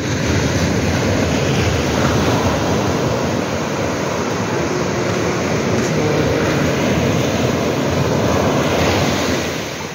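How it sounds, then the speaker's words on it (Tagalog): Strong ocean waves crash against a seawall in Bicol, producing a loud, unbroken roar of churning surf with wind buffeting the microphone throughout, no voices heard. "Lakas guys ng alon."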